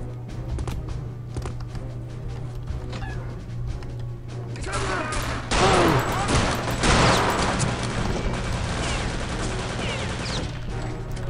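Gunfire in the shooter game Return to Castle Wolfenstein, rapid bursts of shots with a heavy, dense volley in the middle, over a steady low hum.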